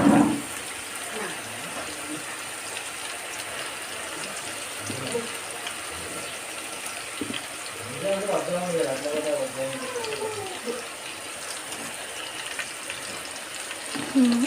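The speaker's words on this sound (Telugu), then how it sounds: "ఇది చక్కగా ఫ్రై అయ్యి ఉడికిపోతుంది" Fish sizzles steadily in a pan of hot oil for a Telugu-style fried fish, a constant close crackle with faint stirring and a few low voice-like sounds in the background.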